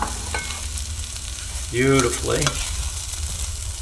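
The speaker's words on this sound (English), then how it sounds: "we're going to throw in our rice. Now I'm using a short grain Valencia rice." Short grain Valencia rice for Spanish chicken and rice is stirred in a hot pan, giving a close, continuous sizzle and frying crackle. A voice speaks briefly partway through.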